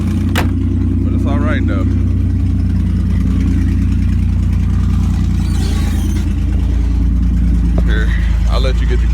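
A loud car engine idles with a deep rumble, rising briefly in a rev, while someone speaks over it close by.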